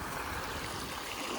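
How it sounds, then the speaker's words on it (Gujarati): Water running from a farm borewell outlet, a steady broadband rushing and splashing flow that stays close and constant throughout with no voices. "જોયું તો પાણી ચાલુ છે"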